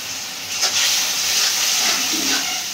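Ground spices, cumin, coriander, salt and ginger-garlic paste, sizzling and hissing steadily as they are sautéed in a pan, a continuous close frying sound with no talk.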